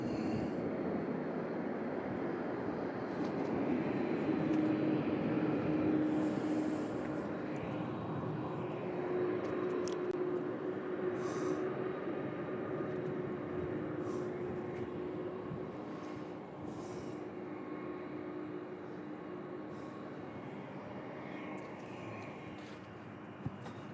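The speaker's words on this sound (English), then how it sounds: "Here comes another MD-11." An MD-11 jet at Louisville International Airport passes with a steady broad roar and a faint whine, loud at first and then slowly easing off, heard from outdoors.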